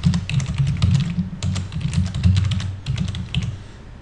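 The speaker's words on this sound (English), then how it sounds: "Then just type your email, and then type it again." Rapid typing on a computer keyboard as an email address is entered, steady clusters of close, crisp key clicks with brief pauses between bursts.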